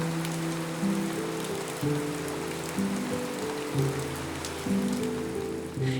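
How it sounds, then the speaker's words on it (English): Steady rain falls continuously on a surface during a rainy spell on a road trip in Romania, a dense even patter with no voices, accompanied by a low, constant droning hum underneath throughout. "Sometimes it's just rain."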